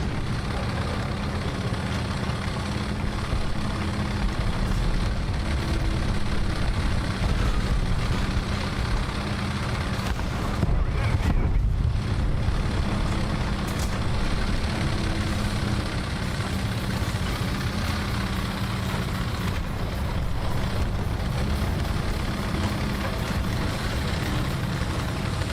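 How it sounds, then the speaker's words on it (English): Tank engine in the video game War Thunder, a loud continuous low rumble that holds steady and close throughout, with no speech. "I'm driving my invisible tank across."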